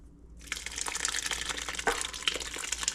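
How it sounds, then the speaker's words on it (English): A liquid mixture of onion, celery, chicken stock and butter is poured over breadcrumbs for a family dressing, heard as a close, steady splashing gush that starts after a short silence and continues to the end. "So we're gonna go ahead and pour that over your breadcrumbs."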